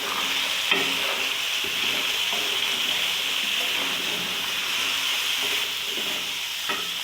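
Chicken frying with peas, carrots and potatoes gives a loud, steady sizzle with occasional stirring scrapes, close and continuous with no voices.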